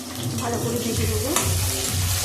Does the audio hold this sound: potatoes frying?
yes